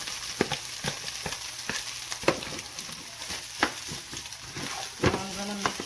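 Rice and eggs for shrimp fried rice sizzle and fry in a pan, with repeated scraping clicks of stirring punctuating the steady hiss, fairly close and moderately loud.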